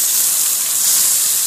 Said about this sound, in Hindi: थोड़ा सा पानी डालेंगे इसमें,